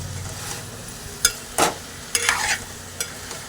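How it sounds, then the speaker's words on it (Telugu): Parboiled bitter gourd pieces frying in a pan, a low sizzle broken by a few sharp spatula scrapes and clinks against the pan, each brief and close. "కాకరకాయలు వేసేసుకుని మనం ఒక్క నిమిషం వేగితే సరిపోతుంది"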